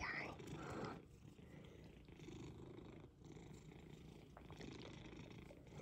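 A cat purrs steadily up close in soft, rhythmic rumbling pulses, with a brief murmur of a voice near the start.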